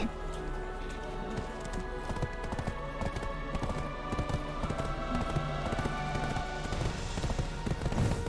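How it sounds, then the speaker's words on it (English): Horse hooves clip-clop steadily in the online role-playing game Black Desert Online, a continuous rapid trotting rhythm over dense game ambience, loud and close, with no speech. "Come here, horse."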